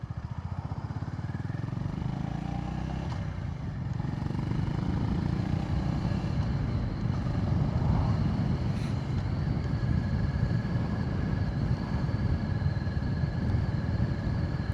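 A Honda GB350S motorcycle rides along in third gear with a steady, close single-cylinder thrum and wind rush that hold constant throughout, no talking.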